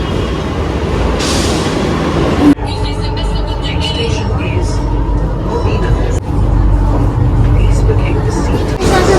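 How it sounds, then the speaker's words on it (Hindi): A loud, continuous rumble of a metro train arriving at a station fills the space, with rattling, clunks and a sharp hiss, while people talk over it. "लो भाई मेट्रो भी आ गई है।"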